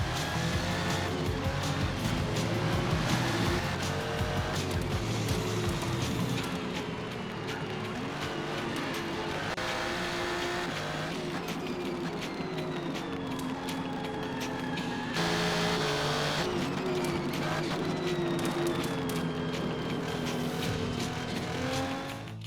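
Race cars in a racing video game roar past one another, engines droning and shifting pitch as they overtake, with occasional tire squeal, steady and continuous with no talking.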